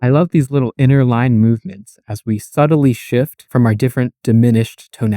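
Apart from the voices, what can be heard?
No everyday noises stand out.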